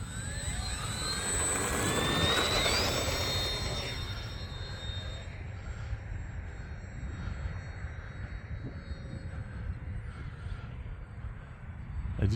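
A Bearcat radio-controlled model airplane's high electric motor whine on a 4S battery at about half throttle sweeps past loudly, then fades to a distant drone over breezy outdoor noise.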